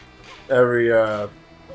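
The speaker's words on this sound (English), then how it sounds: "I bet the noise can get a little grating hearing Mario go woo woo woo woo" Mario's high, cartoonish voice from Super Mario Sunshine lets out a single rising "woo" shout, loud and short, with quiet background before and after.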